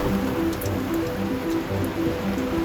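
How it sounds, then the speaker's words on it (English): Rain falls on a boat in the Bay of Islands, a steady, dense patter of drops striking the hull and deck, moderately loud and close, continuous with no voices. "A bit of rain is good for the boat to clean off the salt water."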